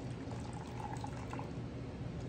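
Freez Mix lemon and ginger drink being splashed out, a faint, continuous liquid pour with a light bubbling trickle, close and alone.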